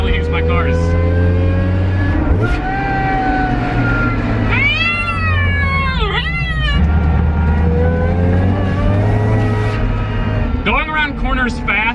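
A Mazda Miata rally car corners fast on a street, its engine droning loudly and steadily throughout, with tires squealing in sharp bursts through the turns and a voice talking over the noise.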